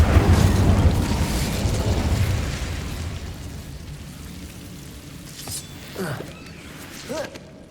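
An Incendio fire spell blasts in the Hogwarts Legacy video game, a loud, whooshing burst that fades slowly into quieter crackling, with a couple of faint chimes near the end.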